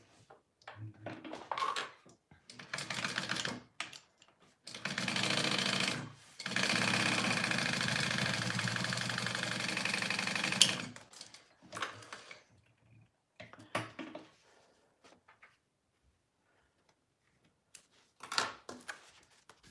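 Sewing machine stitching the quarter-inch side seams of a fabric baby sling, loud close mechanical whirring in several bursts, one long run of several seconds, separated by short pauses and quiet handling of the fabric.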